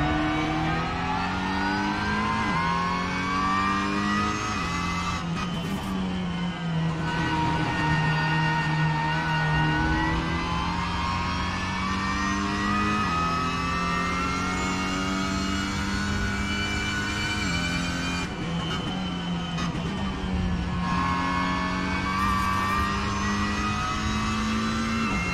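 Cupra TCR 2022 race car in a racing video game at the Zolder circuit, its engine droning loud and steady throughout with rising revs and brief dips at gear changes, heard alone without talk.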